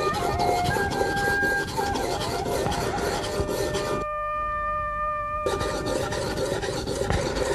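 A knife edge being reground on a sharpening stone gives a steady, close rasping grind. It stops briefly partway through, then carries on at the same level.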